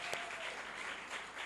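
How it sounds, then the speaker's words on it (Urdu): A church congregation at an Urdu-language sermon claps for Jesus in a brief, even wash of applause. "یسوع کے لیے زوردار تالیاں بجائیں گے."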